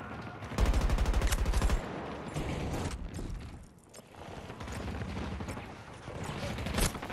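Loud bursts of automatic gunfire in Battlefield 2042, a heavy rapid burst early on followed by continuing shots and clatter throughout, close and dense with no clear talk.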